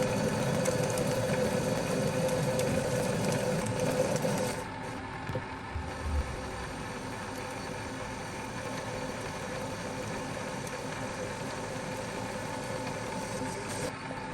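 A lathe machines a rough metal gear casting to about 20 mm, a steady mechanical drone with a cutting hum that drops off partway through, then a quieter running whir.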